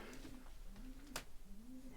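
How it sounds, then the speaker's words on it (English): Pigeons coo softly inside an abandoned courthouse, a few low rolling calls repeating across the two seconds, with one sharp brief noise near the middle against a quiet, faintly hissing background. "Pigeons."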